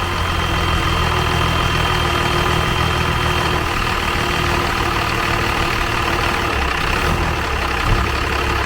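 A diesel engine (a Cummins swap) idles steadily just after its first start, with its throttle linkage still unhooked. It gives a loud, continuous, even rumble close by, with no talking.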